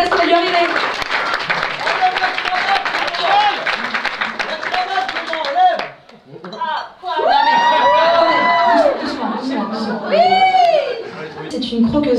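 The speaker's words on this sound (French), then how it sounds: "On va applaudir très fort Clément" A cabaret crowd applauds loudly and cheers with whoops. The clapping dips briefly midway, then swells again as voices shout over it.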